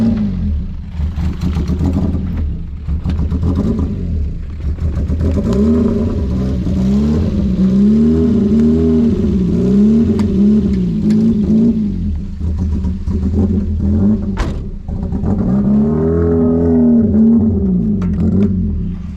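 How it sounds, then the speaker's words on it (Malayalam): A racing car engine, cold-started after five years, idles roughly and unevenly. Its pulsing, lumpy throb swells and dips in repeated surges with clattering mechanical noise, loud and close, and no voices. "ഐഡ്ലിങ് പ്രോപ്പറായിട്ടില്ല, അതുകൊണ്ടാണ് ഒരു ചെറിയൊരു വണ്ടി ഒരു ഫ്യൂവല് കിട്ടാത്ത പോലെ കാണിക്കുന്നത് കേട്ടോ."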